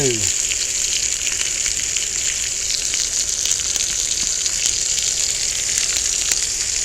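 Two hamburger steaks sizzle on a cast iron griddle, a continuous close hiss dotted with sharp spatters and pops, steady from start to finish.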